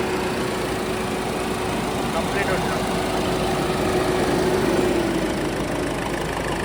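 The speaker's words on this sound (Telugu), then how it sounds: "ఇంజన్ మాత్రం చాలా సైలెంట్ ఉందండి" A 2016 Ford EcoSport Titanium Plus diesel engine idles with a low, steady rumble, a faint whine running over it and no change in pace.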